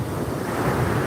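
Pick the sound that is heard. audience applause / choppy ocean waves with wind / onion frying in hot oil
choppy ocean waves with wind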